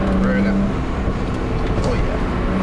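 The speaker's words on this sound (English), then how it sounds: "Let me see if I can get some burbles now. See if we can hear it." A tuned BMW 335i engine rumbles steadily at close range, its exhaust giving off low, uneven burbles that run continuously through the whole stretch.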